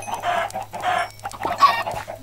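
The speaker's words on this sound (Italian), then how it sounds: "È pieno di polli" Chickens in the video game Minecraft cluck in three short, clipped bursts with brief gaps between them, close and clear over a low background hum.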